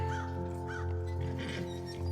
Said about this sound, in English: The crow sounds very cool.